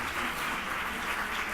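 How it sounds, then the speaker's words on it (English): An audience at a 2015 mayoral candidate forum applauds, dense steady clapping throughout a brief stretch. "Let's give Sylvia a big round of applause"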